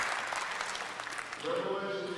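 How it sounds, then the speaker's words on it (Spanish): Congregation applauding during a worship service, a steady patter of clapping at moderate distance, with a voice and some musical tones coming in toward the end. "dele al Señor un aplauso de adoración"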